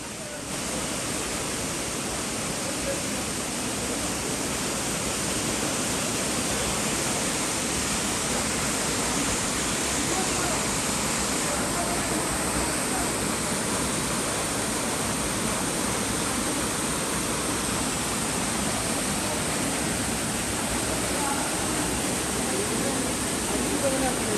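Keralamkundu waterfall roars in a steady, dense rush of falling water, loud and unbroken throughout with no pauses or variation.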